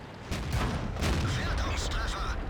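Artillery fire in a tank video game: a couple of sharp, booming blasts in quick succession, loud and close, with someone talking over them.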